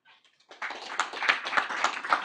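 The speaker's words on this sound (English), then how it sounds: "There's an applause for you, Patrick." A small room audience bursts into applause after a faint moment, the scattered hand claps quickly thickening into steady, moderately loud clapping.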